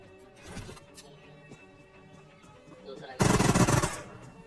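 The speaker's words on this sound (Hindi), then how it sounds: "इसलिए मैंने जल्दी से एक मॉली फेंक दी।" A molotov cocktail bursts in the BGMI video game, with a loud whooshing burst of flame late on, preceded by quieter gunfire and game effects.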